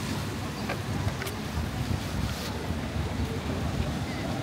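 Strong wind roars without pause on a stormy winter day in Valletta, Malta. It is a loud, close, buffeting gust noise hitting the microphone throughout.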